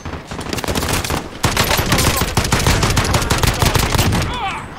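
Rapid bursts of automatic gunfire from a Call of Duty: Modern Warfare Plunder match, loud sharp cracks fired in quick rhythmic strings with brief gaps, close and continuous, and a faint voice underneath.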